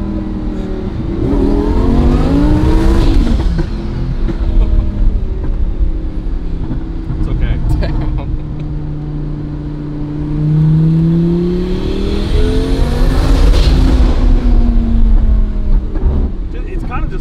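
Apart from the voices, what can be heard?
Lamborghini Murcielago engine revving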